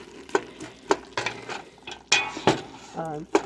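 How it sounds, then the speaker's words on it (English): A spoon stirring chili in a pot, knocking against the rim in sharp irregular clinks and scrapes, close and fairly soft, with a faint sizzle underneath and a brief squeak. "So we're just gonna stir this up, let this cook a little bit."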